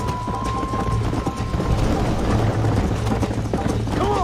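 A horse gallops in the Western video game Red Dead Redemption, with rapid rhythmic hoofbeats close by and an engine-like rumble underneath, steady and fairly loud throughout.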